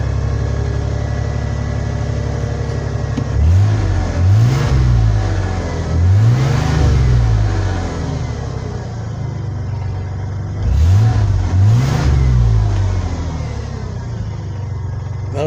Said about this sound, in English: Motor sounds stout.